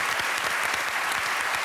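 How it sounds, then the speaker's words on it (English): Steady, dense clapping from a television studio audience on a chat show, loud and continuous throughout with no voices over it. "give them a round of applause"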